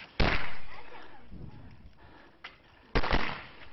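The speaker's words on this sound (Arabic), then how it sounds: "يتمركزون ويبدأون بإطلاق النار" Sharp, loud gunshot cracks in a combat exchange about 500 metres from enemy positions, two main bursts about three seconds apart with a faint pop between, echoing outdoors.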